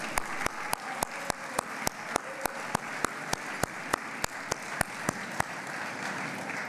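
Applause from the audience at the Jacqueline Kennedy Onassis Medal program, a steady wash of clapping with sharp evenly spaced clicks repeating over it throughout.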